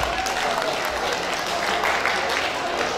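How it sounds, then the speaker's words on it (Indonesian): A small audience at the DMDI Award 2023 ceremony claps steadily, a thin, continuous patter of applause from a handful of people in a hall, with faint voices mixed in. "Empat orang cuma yang tepuk tangan, ya kan?"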